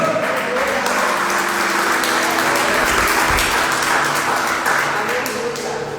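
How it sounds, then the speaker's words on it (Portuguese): Congregation at an evening church service applauds in a thick, continuous clatter of clapping, with voices murmuring underneath and a low hum in the background. "Aplauda ao Senhor."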